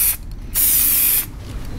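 Aerosol spray paint in a workshop, two short sharp hissing bursts from a can, close and loud, with a brief pause between them.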